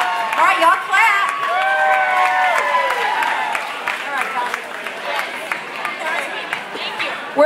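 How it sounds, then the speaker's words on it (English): A crowd at an 80s-themed costume contest for a 30th birthday party claps and cheers, with scattered hand claps and whoops rising and falling over steady chatter and voices close by. "All right, y'all clap."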